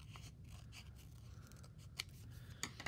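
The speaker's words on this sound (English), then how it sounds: "your scissors to go ahead and cut out each of those scoops" Scissors snip out paper ice cream scoop shapes for a rainbow ice cream craft, giving quiet, scattered cuts and rustles of paper with a few sharper snips near the end, no voices.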